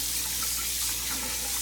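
Tap water runs steadily over basmati rice being rinsed for a second time in a bowl, a constant close rushing flow with light splashing.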